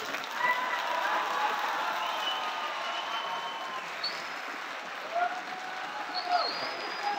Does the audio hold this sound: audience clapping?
yes